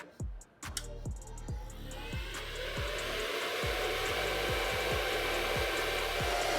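A Bitcoin mining machine rated at 80 to 90 dB runs with a loud steady fan roar, punctuated by a rhythmic series of low thumping pulses that repeat roughly every half second, with no talk over it.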